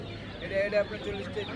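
Chickens at a village poultry market, faint clucks and short bird calls beneath a steady murmur of market voices and background noise.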